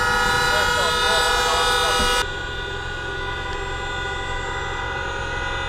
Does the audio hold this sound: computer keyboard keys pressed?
no